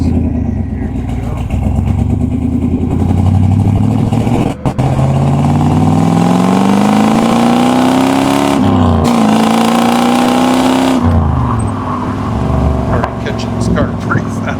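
A 1968 Chevrolet Camaro accelerates hard through its gears, the engine note rising in a long sweep, dipping at each shift, then climbing again, loud and close from inside the car with a voice talking over it.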